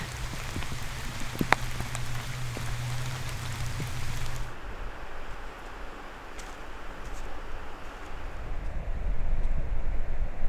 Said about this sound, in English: A little unexpected rain, only to add to the vibe.